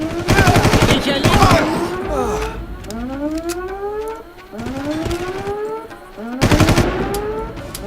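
Automatic gunfire from the video game Far Cry: dense, rapid bursts open the scene and return near the end, with rising, siren-like tones sweeping upward in between.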